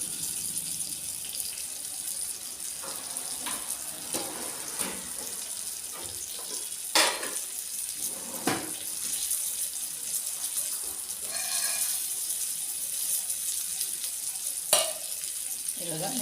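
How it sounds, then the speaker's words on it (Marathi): Fish shallow-fries in a little oil in a covered pan, with a steady soft sizzle and occasional louder sputters and clinks from the pan. "मी थोडा वेळ झाकून ठेवते म्हणजे ती छान फ्राय होईल."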